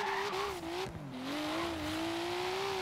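Sustained engine drone with squealing tires from a car held in a long drift in the racing video game Forza Horizon 3, a steady loud tone that dips briefly and then climbs back, with no voices.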